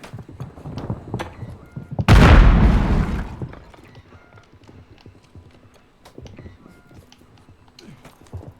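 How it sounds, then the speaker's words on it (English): A grenade explosion in Call of Duty Warzone, Plunder quads mode, bursts loud and sudden with a deep boom that fades over about a second, amid scattered gunfire and game noise. "Throw a grenade!"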